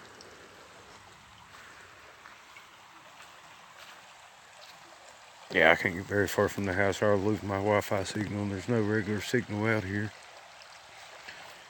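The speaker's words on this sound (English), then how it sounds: "most of the noise you hear from the creek's coming from up there" A creek with a small waterfall flows steadily in the background with a constant rushing wash, and someone talks over it for several seconds in the middle.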